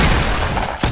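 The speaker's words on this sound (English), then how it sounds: "I hate the heavy shotgun!" Heavy shotgun blasts in the Fortnite video game ring out loud and close, a dense burst of gunfire with a sharp report near the end.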